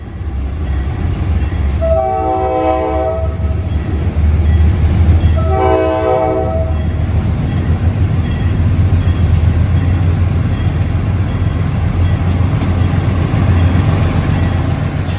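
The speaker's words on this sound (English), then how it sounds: "train L781 arrives in Macon, where the train will eventually be transferred back to Norfolk Southern at Brosnan Yard" A Norfolk Southern freight train rerouted on the Georgia Central Railway rumbles past loudly and continuously, sounding two long horn blasts early on over the steady roar of wheels and cars.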